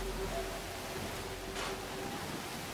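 Heavy rain pours in Fallout 4 as a dense, even hiss that holds steady throughout, with no single drops standing out.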